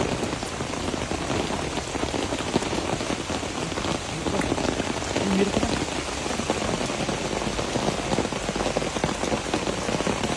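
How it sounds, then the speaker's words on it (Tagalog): Steady rain pours down outdoors beside a canal, a dense, even hiss of drops hitting the surface throughout, loud and close with no pauses. "Umuulan na."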